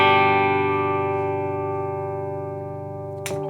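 A guitar chord played with a cleaner tone rings out and sustains with a slight wavering shimmer for over three seconds, fading slowly, before a brief scrape or muted strum cuts it off at the end.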